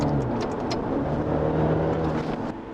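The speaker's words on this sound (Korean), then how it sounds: "저 이제 좀 고속으로 한번 밟아보면은" A Maserati Ghibli mild hybrid accelerates at speed, its engine and road noise forming a loud, steady rushing drone heard from inside the car with no talking.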